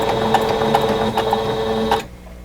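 A home sewing machine stitches across a quilt block, a steady close whirring motor with faint rhythmic needle ticks that runs for about two seconds and then stops abruptly.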